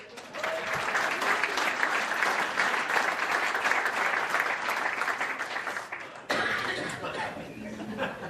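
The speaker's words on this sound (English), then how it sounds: "J.W. Reedy, We can clap for you" Sustained applause from a crowd at a chamber of commerce board installation ceremony, steady and fairly loud for several seconds, with scattered chuckles mixed in and a brief cut near the end.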